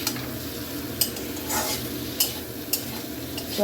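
Potatoes sautéed with spices in a pan for a Kali Puja meal, a steady close sizzle with several sharp scrapes and clinks of a spoon stirring against the pan, and no voices.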